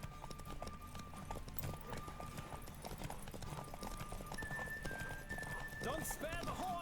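Steady galloping hoofbeats from a horse race in The Witcher 3 run throughout, with a whinny toward the end, under continuous talk and tonal game music.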